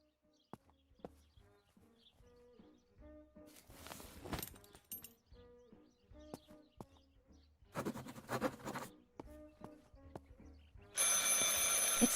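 A telephone rings inside a house in the video game Martha Is Dead, with faint repeated bell-like rings and soft clunks under quiet ambience, followed by bursts of louder noise.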